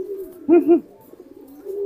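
A courting domestic pigeon coos close by: two loud, rounded coos in quick succession, then softer continuous throaty cooing that carries on steadily to the end.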